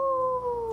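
A voice imitates a wolf howl, one sustained steady tone with a faint quaver, close and fairly loud, lasting under a second.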